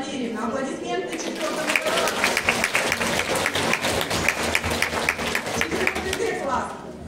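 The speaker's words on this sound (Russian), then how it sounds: "Аплодисменты" School ceremony audience applauding at a primary school farewell event, dense rapid clapping rising after a second and sustained evenly before fading at the end.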